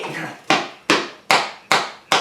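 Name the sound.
hammer hitting soft armor pad of Icon motorcycle jacket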